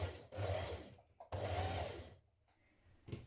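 A sewing machine stitches a seam in knit fabric with a stretch stitch, two bursts of rapid motor-driven needle chatter separated by a short pause, close and clear, with no talking.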